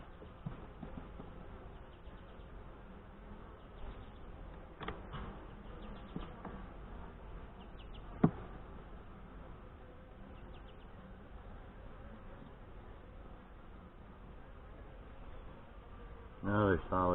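Saskatraz honey bees hum faintly around an open hive in northwest Wisconsin, a low continuous buzz with occasional clicks and knocks, while a person talks close by.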